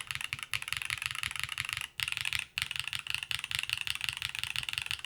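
Rapid, steady typing on a Velora TKL mechanical keyboard, close and crisp, with dense clacking keystrokes in a continuous rhythm broken by two short pauses, no talking.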